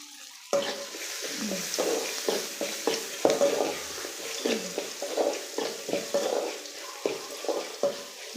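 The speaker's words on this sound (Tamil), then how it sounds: "வெங்காயம் நான் சின்ன வெங்காயம் பெரிய வெங்காயம் ரெண்டுமே எடுத்திருக்கேன் அதையும் இதில் சேர்த்திக்கலாம்" Small and big onions being stirred in a frying pan for gooseberry fried rice, repeated close scraping and clinking strokes over a soft sizzle, steady and without talk.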